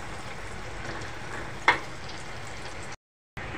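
Raw banana slices frying in hot oil, a steady close sizzle with one brief sharper pop, cutting out abruptly near the end before resuming.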